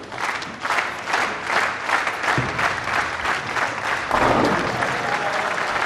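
A crowd at the Weber Cup darts applauds a player, with dense, loud, sustained clapping and a few shouts mixed in, continuing evenly throughout.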